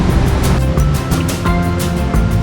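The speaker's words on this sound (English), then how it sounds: "I had to stop here at this waterfall, so I thought we'd check it out." A waterfall beside a stop on the Wayah mountain road roars loud and close, a dense, unbroken rush of falling water with faint surging swells and no voices.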